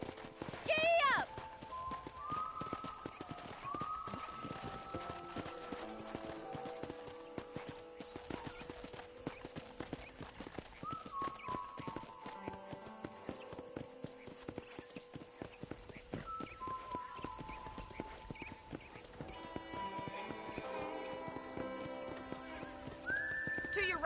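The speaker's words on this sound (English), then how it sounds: "let's see if you can still ride a horse." Horse hooves clip-clopping and a horse whinnying in the video game Red Dead Redemption, steady hoofbeats running throughout under game music and character dialogue.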